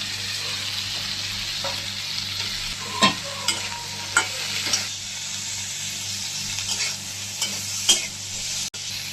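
Drumstick stalks going into tomato that is frying in a pan: a continuous close sizzle with several sharp clatters and scrapes partway through, and no talking.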